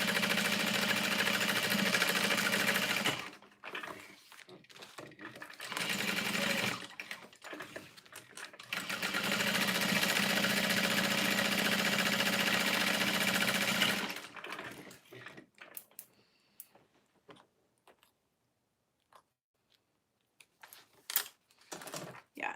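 Sewing machine basting a seam with an eighth-inch allowance, two long close whirring runs split by a short pause, then quiet handling sounds.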